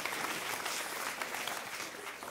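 A church congregation claps vigorously, a thick even roar of many hands at moderate distance that holds steady without voices rising over it.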